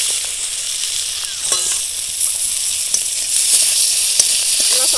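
Chopped onion sizzles in hot oil with bay leaves and dried chili, giving a steady loud hiss of frying with occasional soft stirring clicks and taps.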